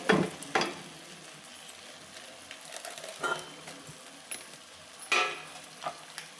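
Spice powders and garam masala stirred into a pan of vegetable biryani, with a handful of separate scraping strokes over a faint sizzle, each stir a short broadband scrape at fairly close range.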